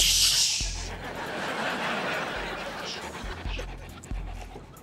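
A dog pants in quick, breathy bursts close by, with a few low thumps and scuffles around it.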